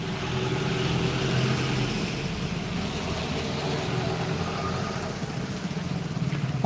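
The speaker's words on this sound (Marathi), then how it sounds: "असे गाड्यांचे वगैरे आवाज येतात ना आणि गाड्या वगैरे जातात कंटिन्यू अशा" Vehicles passing along a road after rain, a continuous low rumble of car and motorcycle engines at a moderate distance, with a voice talking faintly over it.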